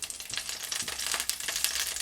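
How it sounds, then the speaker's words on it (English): Split chilies frying in hot oil, a steady close crackling sizzle that continues throughout with small pops and no talk. "you're going to let these chilies fry off for a little while so that they infuse their flavor in that oil"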